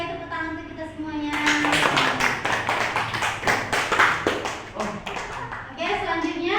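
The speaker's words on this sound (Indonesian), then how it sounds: "tepuk tangan untuk kita semuanya" A classroom of students applauding, a burst of brisk, irregular clapping that rises after a teacher speaks, with voices heard before and after the applause.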